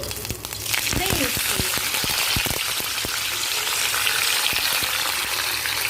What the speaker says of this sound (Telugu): ఇలా కరివేపాకంతా మంచిగా వేయించుకోవాలి